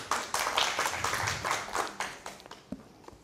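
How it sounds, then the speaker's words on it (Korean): A small lecture audience claps briefly, a handful of separate, uneven claps that start loud and then thin out into a few scattered taps, with no talk over them. "박수 한번 쳐주세요."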